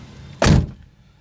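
The rear hatch of a 2011 Daihatsu Atrai wagon, a 660cc automatic, shuts with a single solid thunk, close and loud, fading quickly into quiet with no one talking.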